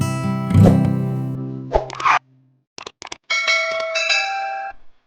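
Bright bell-like notification chime effect with a ringing tonal hit, a short gap, then several quick plucked blips and a sustained harmonic chime phrase, loud and alone with no talk.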